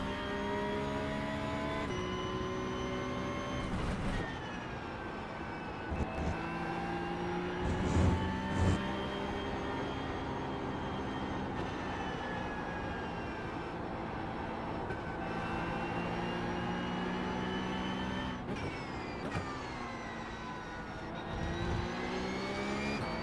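McLaren race car engine in a racing video game, a steady sustained drone with harmonic whine that shifts pitch at several points as revs rise and fall, loud and continuous throughout.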